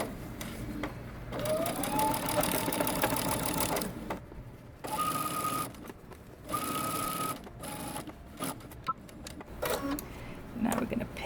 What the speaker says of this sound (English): Now we're going to start at our side seam, sew across, and then down the front.